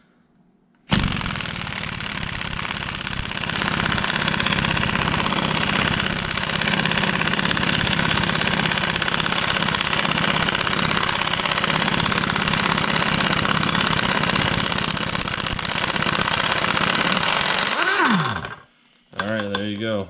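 An Aircat 1/2-inch pneumatic impact wrench loosens torqued bolts, a loud, steady, unbroken hammering buzz running close and continuous for about seventeen seconds before cutting off sharply.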